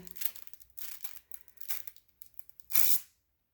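Protective film peeled off a new MSI Optix MAG321CQR monitor: several crinkly tearing pulls, close and fairly loud, ending in one long, bright rip.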